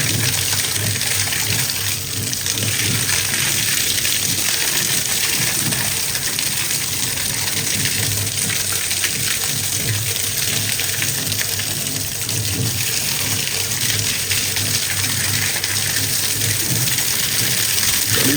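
A strong, steady rush of water gushes continuously from a pipe, loud and unbroken throughout with no pauses.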